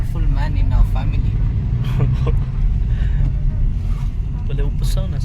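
A car being driven produces a steady, low engine rumble throughout, with continuous talking over it.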